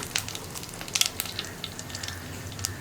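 Dried red chillies fry in hot coconut oil with mustard seeds in the pan, giving a close, crackling sizzle dotted with quick sharp pops and spits.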